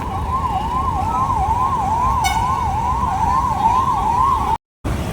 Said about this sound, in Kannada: ಜಾಗ ಮಾಡಿಕೊಟ್ರು ಆಂಬುಲೆನ್ಸ್ ಪಾಸ್ ಆಯಿತು